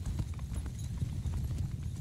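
Many horses gallop together in the Mount & Blade II Bannerlord video game as a cavalry army charges, a dense, steady drumming of hooves filling the whole stretch with no talk over it.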